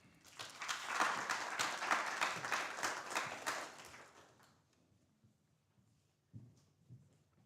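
An audience at a moot court competition claps steadily for several seconds, the applause building and then fading out, followed by a few faint rustles and soft sounds.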